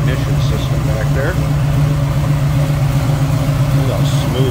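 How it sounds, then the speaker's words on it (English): A 1979 Chevrolet Malibu Coupe V8 with Flowmaster exhaust, Holley carburetor and HEI ignition idles loud and smooth in a steady rumble, with someone talking over it. "Look how smooth that engine sits and runs"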